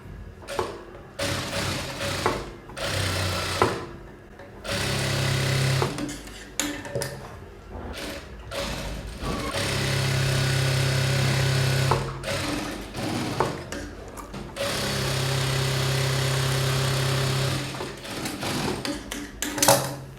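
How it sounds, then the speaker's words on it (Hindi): A sewing machine stitches the armhole seams of a corset bra in several bursts of steady mechanical whirring, separated by short pauses and the clicks and thuds of the fabric being handled. "यहाँ पे आर्महोल पे स्टिचिंग लगाएंगे, दोनों साइड पे, ये साइड पे भी और ये साइड पे भी"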